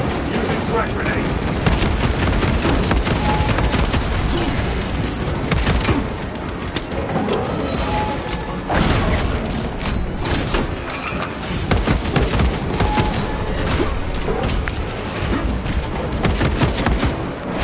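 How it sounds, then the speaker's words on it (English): Frag grenade detonating amid dense, continuous combat in Warhammer 40k Space Marine 2, with heavy booms and thuds layered over rapid gunfire and chaotic battle noise for the whole stretch. "Using frag grenade."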